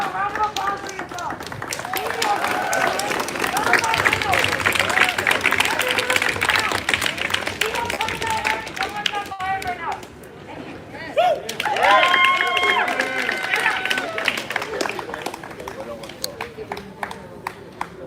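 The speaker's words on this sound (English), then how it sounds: "Give a round of applause for yourself" Street marchers at a Seattle protest march break into applause and cheering, a dense crowd noise with shouts and voices woven through it, loud and close, easing off briefly midway before surging again.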